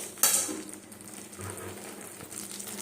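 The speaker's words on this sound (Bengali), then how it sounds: "আমি পেঁয়াজটাকে এখন একটু ভেজে নিচ্ছি" Onion frying in a pan in a home kitchen on a rainy day, opening with a sharp metallic clank of a utensil against the pan, then quiet scraping and stirring with a soft sizzle underneath.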